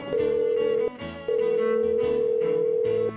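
A steady telephone dial tone sounds while a call is placed, loud and continuous with one brief break near the start.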